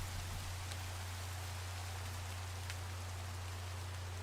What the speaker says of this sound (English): It's raining, and we definitely can go to sleep.